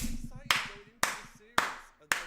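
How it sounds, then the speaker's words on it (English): Four sharp, close handclaps land at an even, slow pace, each crisp and separate, celebrating a winning high school esports team at a PlayVS Cup final. "Clap for East Mountain."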